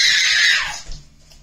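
A person lets out a loud, high-pitched scream at a home kitchen, lasting under a second before trailing off into quiet.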